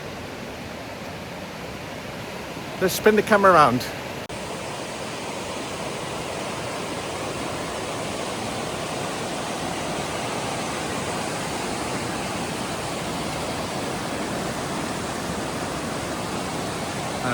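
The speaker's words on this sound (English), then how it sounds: "You can probably hear the water in the background." Steady, broad roar of rushing water from the Mae Ya Waterfall, constant and full throughout, with a brief burst of handling noise and a voice near the start.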